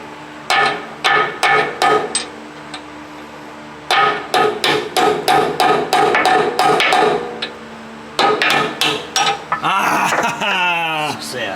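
Loud, close metallic hammer blows land in three rapid runs of strikes with short pauses between them, pounding on the blown axle of a LeeBoy 635B motor grader during a repair.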